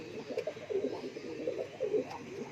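Fancy pigeons in a loft cooing softly, repeated low throaty coos in overlapping rhythmic phrases, close but quiet, no talking.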